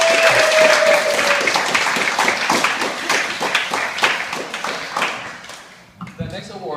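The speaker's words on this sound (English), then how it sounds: "And give a round of applause to Anton." An awards ceremony audience claps enthusiastically, a dense burst of applause that thins into scattered individual claps before fading, with faint talk underneath.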